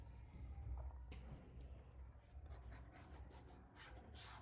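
Soft, faint scratching of handwriting on paper, steady and close, with no one speaking.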